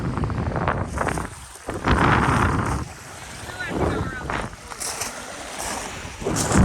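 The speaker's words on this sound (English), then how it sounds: "It's real windy out here." Strong gusting wind buffets an unprotected microphone outdoors, loud roaring bursts rising and falling in uneven waves, with people talking in between.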